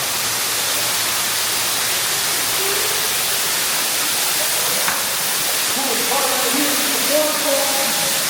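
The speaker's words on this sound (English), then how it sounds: "You can hear the waterfall." A loud, constant roar of a waterfall inside Marvel Cave at Silver Dollar City fills the space, with brief voices faintly heard beneath it toward the end.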